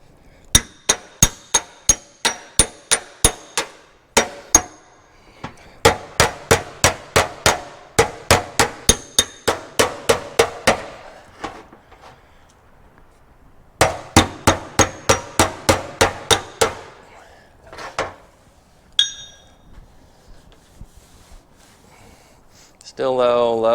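A car fender being hammered to work out dents, with rapid runs of sharp metallic taps and clinks broken by short pauses, close and loud, and brief talk between the bursts.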